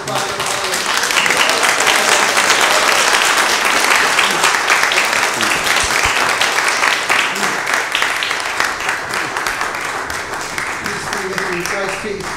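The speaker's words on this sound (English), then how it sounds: "A round of applause for Father." A church congregation applauds a newly ordained priest at his first Eucharist, a loud, sustained round of many hands that fills the space, with some voices mixed in.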